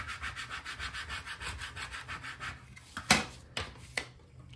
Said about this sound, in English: rub it with my scraper really well